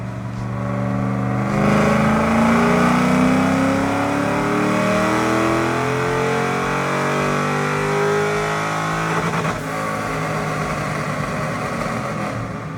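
An LS-swapped Nissan S13 runs hard on a dyno at a show, the engine climbing loudly in pitch through a long, steady rev that holds for several seconds before easing back with a brief change near the end.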